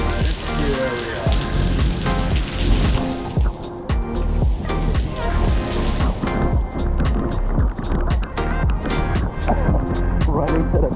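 Steady rain pours down in Florida on a family trip to a water park, loud and dense throughout with constant spattering, while people talk close by over it.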